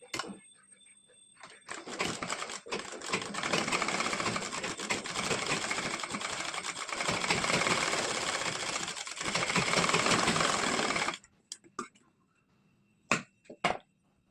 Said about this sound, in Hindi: इस तरह से इसे आप इस तरह से मोड़ेंगे और सिलाई लगाएंगे।